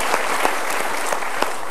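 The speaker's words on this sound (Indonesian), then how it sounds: "Kita berikan tepuk tangan." An audience at a Mario Teguh motivational talk show gives a burst of continuous applause, a full, dense crowd clapping steadily throughout with a few sharper claps standing out.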